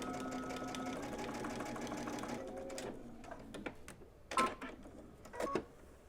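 A sewing machine stitches fabric along a basting line with a quiet, steady mechanical hum for about three seconds, then stops, leaving faint clicks and handling noises.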